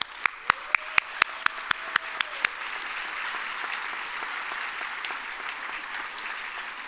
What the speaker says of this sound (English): if we could just give them a round of applause for all the hard work that they've had.